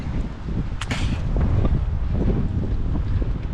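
Strong outdoor wind gusts buffet the microphone in a steady low roar, with a brief sharp whoosh near the start and no one talking.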